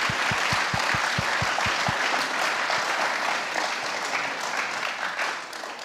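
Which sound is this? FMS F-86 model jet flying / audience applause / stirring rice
audience applause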